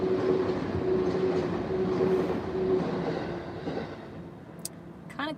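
A train in Japan rolls along its rails, heard from inside a carriage as a continuous rumbling clatter with a faint whine that eases slightly, then a couple of brief squeaks near the end.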